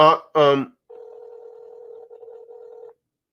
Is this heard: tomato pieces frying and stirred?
no